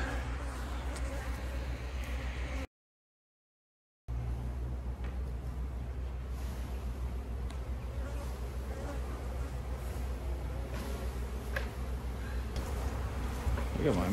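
Honeybees from an open-air colony hum steadily and close by. The continuous, dense drone breaks off in one short silent gap before resuming.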